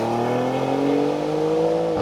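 A BMW S58 3-litre twin-turbo inline six-cylinder engine revs up close and loud, a smooth harmonic drone that climbs steadily in pitch with no voices.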